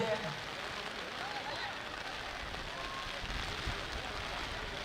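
Heavy rain falls during an outdoor football match, a broad, steady hiss of rainfall throughout, quite faint and uniform, with occasional faint voices underneath.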